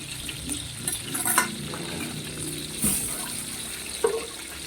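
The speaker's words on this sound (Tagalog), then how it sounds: "lagay natin yung kamatis sibuyas luya" Tomato, onion and ginger sautéing in a pan for a prawn dish, giving a steady hiss of sizzling with a few soft clinks and bumps on top.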